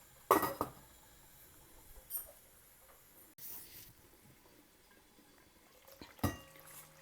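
Mutton biryani masala being stirred in a pot on the stove, then covered with a lid, giving a few scattered metallic scrapes and clinks amid a faint sizzle, with long quiet stretches between them.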